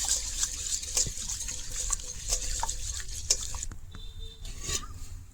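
Soaked basil (sabja) seeds are swished and stirred by hand in a bowl of water, a steady close watery churning with small splashes and clinks against the bowl, with no talking.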